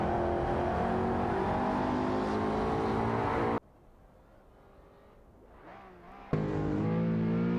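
Race cars roar in a video game race, engines revving loud and close in steady harmonic whine, dropping suddenly to a quieter rumble for a few seconds before the full engine roar returns.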